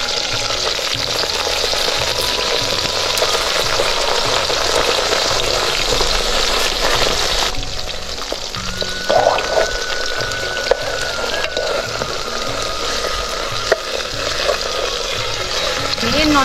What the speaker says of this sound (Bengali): নোনতা ইলিশ আর হচ্ছে লাউ পাতা এগুলা ফ্রাই করতেছি